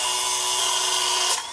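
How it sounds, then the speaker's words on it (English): Half-inch red PEX pipe being ground at a grinding station, a loud continuous high-pitched whine up close that drops off sharply at the end. "come over here to your grinding station, and grind that up like so"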